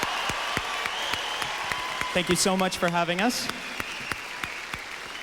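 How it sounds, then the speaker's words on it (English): An audience at a peace concert applauds with steady, moderately distant clapping throughout, while someone speaks briefly over it near the middle. "how about another round of applause for Supreme Master Ching Hai?"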